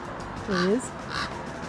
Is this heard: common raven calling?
yes